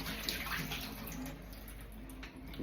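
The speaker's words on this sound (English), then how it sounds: "I need to just fill the kettle up for tomorrow." Water runs steadily from a tap into a kettle being filled, a continuous close rushing splash with no pauses for nearly three seconds.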